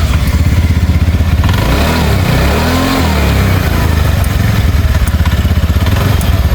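A TVS Ntorq scooter engine idles after a full servicing, running loud and close with a steady, slightly clattery putter and a brief dip in pitch midway before settling back.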